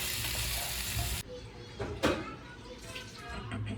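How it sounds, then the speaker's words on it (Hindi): Fish fries in a pan and is flipped to the other side: a steady loud sizzle cuts off suddenly, followed by a brief scrape and clatter as the fish turns, then the sizzle builds back up. "तो हमारी मच्छी के एक साइड से फ्राई हो चुकी है। अब हम इसको पलटा के दूसरी साइड से फ्राई होने के लिए रख रहे हैं।"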